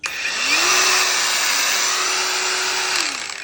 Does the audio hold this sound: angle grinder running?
yes